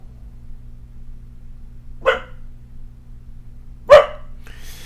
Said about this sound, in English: You will hear dogs barking.